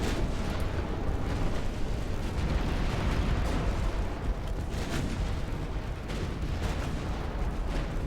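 Warship guns in the naval battle game Ultimate Admiral Dreadnoughts thunder on without pause, a dense, rumbling barrage of heavy low booms blending into one continuous roar with no voices.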